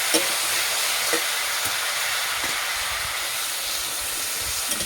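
Water poured into a hot pan of frying pumpkin and potato sets off a loud, continuous steamy hiss and sizzle, close and steady with faint crackles.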